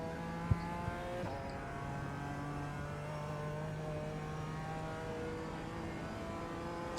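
A BMW M4 GT4 race car engine in the iRacing sim pulls hard through its gears at Oulton Park, a steady loud rising drone with a quick shift blip early on, close and continuous with no talk.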